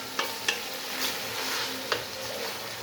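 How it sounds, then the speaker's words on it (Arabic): Pasta for Egyptian koshari is stir-fried in a pot of hot oil, giving a steady close sizzle with several sharp scraping stirs spaced through it. "هننزل في الحله اللي فيها الزيت ونشوحهم تشويحتين"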